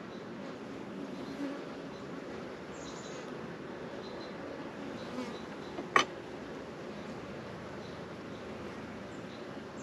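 Honey bees on a hive frame, a dense, even buzzing drone heard close and fairly soft throughout, with one brief sharp click partway through.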